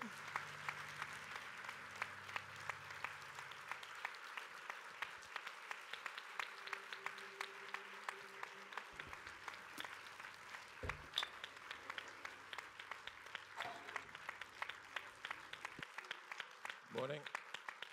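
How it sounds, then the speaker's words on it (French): Applause from the room at a Paris press conference for Prometheus greets Sir Ridley Scott, a faint, steady patter of many hands continuing for the whole stretch with occasional thumps and voices. "Applaudissements, absolument."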